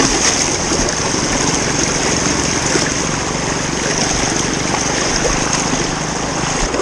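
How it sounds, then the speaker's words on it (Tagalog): Strong river current rushing steadily during an off-road trip at Sapinit, a loud, unbroken roar of water close by that keeps an even level throughout with no talk over it. "Lakas ng agos."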